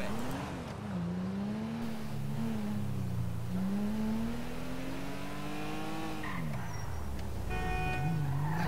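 Range Rover driven in the video game GTA 5, a steady game engine drone that rises and falls with throttle, dipping sharply near the end before picking up again, continuous and fairly loud with no talk.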